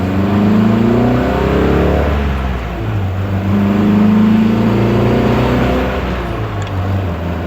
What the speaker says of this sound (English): I'll accelerate and show you that it goes through the gears as it should